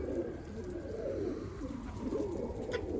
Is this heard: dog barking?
no